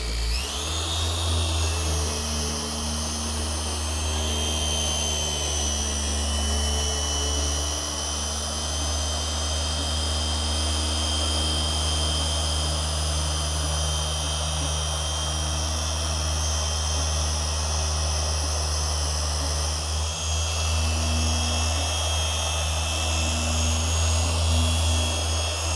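A Porter Cable polisher runs at speed setting 6 with a loud, steady motor whine and hum, unbroken and close throughout, with no talking.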